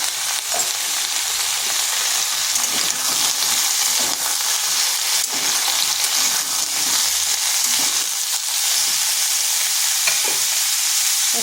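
Ridge gourd pieces are stir-fried with potato in a pan for a vegetarian dish. A loud, continuous frying sizzle runs throughout, with the rustle of stirring beneath it.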